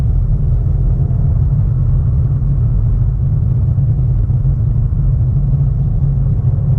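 A Mercedes-AMG E43 accelerates, its engine giving a deep, steady rumble heard from inside the cabin, loud and constant throughout with no talk.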